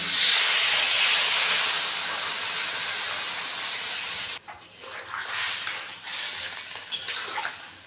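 Water poured onto sautéed chicken cooked with whole onions and garlic bursts into a loud, close hiss of sizzling steam that fades over a few seconds, then drops abruptly to a quieter simmering bubble.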